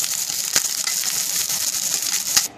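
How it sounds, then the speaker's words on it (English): Flap meat steak searing in a hot pan after sous vide cooking, a steady bright sizzle with a couple of sharp pops and spatters, close and constant. "that's the finished steak after searing it for 1 minute on each side"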